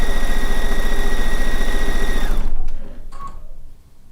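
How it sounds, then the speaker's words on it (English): A sewing machine stitches a row in a steady, loud, fast whir, then stops abruptly, leaving a few small clicks and handling sounds. "Then I'm just going to stitch that entire"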